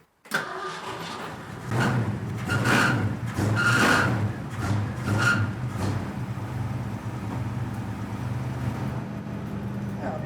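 A muscle car with 95,213 miles starts up and revs hard, engine roaring in repeated bursts with tire squeal and spinning rubber, loud and close, settling into a steady rumbling idle.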